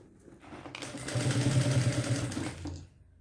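Sewing machine stitching a thermal backpack, one continuous run of rapid stitching that speeds up, holds for about two seconds and then slows to a stop, close and clear.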